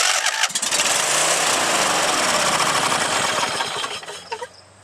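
A three-year-old Huskee Rider riding lawn mower, sitting with old fuel and a dead battery, cranks briefly and then catches, its engine sputtering up into a loud running roar before easing off at the end.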